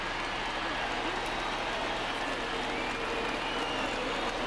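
A stadium crowd of over 39,000 roars and applauds without a break in the baseball video game MLB The Show 20, a dense, sustained wall of noise.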